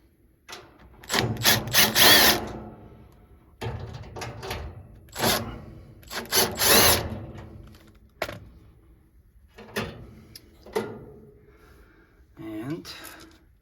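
Bolts and screws being backed out of a furnace blower assembly during replacement: repeated bursts of a power drill or driver whirring, with clanks and handling noise in between and speech over parts of it.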